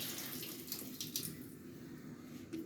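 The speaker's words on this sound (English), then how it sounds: "Open up your tap, you'll see the water shut down." Water pours steadily from an opened tap in a condo suite, a soft continuous rushing with no one speaking.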